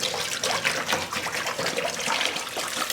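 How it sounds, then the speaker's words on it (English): Distilled white vinegar pours in a continuous splashing stream into a blender container, a close, steady gurgle and rush of liquid with no talk. "We're gonna dump in our distilled white vinegar."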